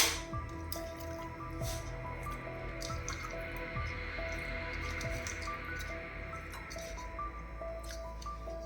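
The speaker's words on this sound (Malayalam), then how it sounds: "ഇനിയിപ്പോൾ ഞാനിതിൽ ചിക്കൻ പീസസൊക്കെ ചേർത്ത് കൊടുക്കുകയാണ്" Chicken pieces for a curry go into a pan of sauce, giving soft wet squishes and drips close by over a steady low background hum, with no talking.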